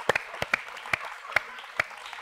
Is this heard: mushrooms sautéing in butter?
no